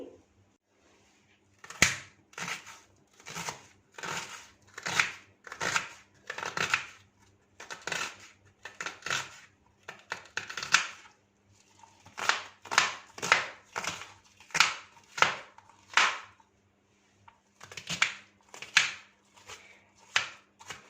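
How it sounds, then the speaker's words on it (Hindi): A kitchen knife cuts an onion on a board, first lengthwise and then through the centre, making a quiet, uneven series of crisp chopping taps with short pauses between bursts. "पहले लंबाई में इस तरह से कट लगा लेंगे और फिर सेंटर में इस तरह से एक कट लगाएंगे।"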